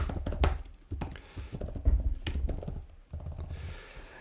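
Keys on a computer keyboard tapped in short irregular bursts while a question is typed, close and moderately loud with brief pauses between runs of keystrokes.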